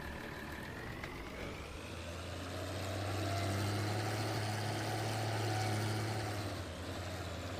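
Truck engine in Farming Simulator 19 driving steadily, a low drone that swells and rises in pitch midway as gears shift, then eases back, with no talk over it.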